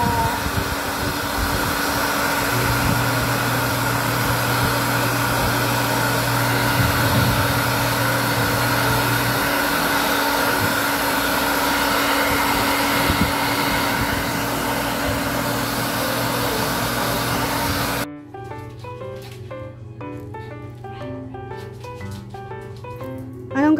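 A steady, loud blow dryer hum runs for most of the clip while drying a Shih Tzu, then cuts off abruptly, leaving a quieter background with scattered noises.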